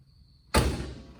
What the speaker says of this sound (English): and then close my oven door